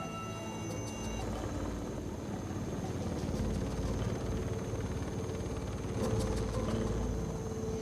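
A helicopter flies over a cut-and-burned clearing deep in the rainforest, its rotor chop and engine drone forming a steady, fairly loud rumble that swells slightly later on, with no voices.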